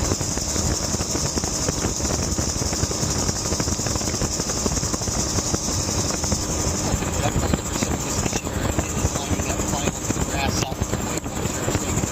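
A Bell 47 helicopter hovers during flight training. Close, loud, continuous rotor and engine noise keeps an even throbbing texture throughout, with a possible voice buried underneath.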